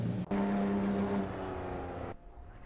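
Race cars speeding in an AI racing video game, a brief engine roar with a sustained whining pitch that cuts off abruptly near the end, loud and close, heard alone.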